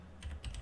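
A short command typed on a computer keyboard, a few quick, soft keystrokes in close succession, faint and close with no talk.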